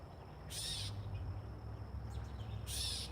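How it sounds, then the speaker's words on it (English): A catbird calls in a garden, two short bright bursts about two seconds apart, clear and fairly near against a quiet background. "Catbird."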